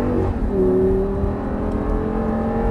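An Audi R8 sports car engine on a racing circuit accelerates steadily with a rising whine, then the pitch drops as a gear changes, close and continuous.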